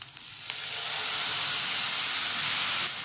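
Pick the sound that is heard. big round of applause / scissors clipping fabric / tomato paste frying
tomato paste frying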